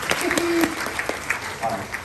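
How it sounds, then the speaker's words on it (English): Brief audience applause at a live horror make-up show at Universal Studios Orlando, with scattered claps and a voice talking over it. "Give me a big round of applause."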